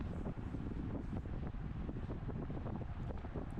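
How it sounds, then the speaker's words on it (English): Wind buffeting a microphone during an amateur category 4/5 criterium bicycle race, a continuous low rushing roar with gusty swells throughout. "The wind is coming a little bit off of the left here"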